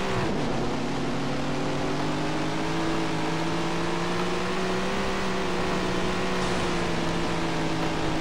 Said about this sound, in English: Listen to those engines as we get ready to go.